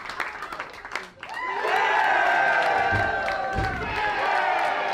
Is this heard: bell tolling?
no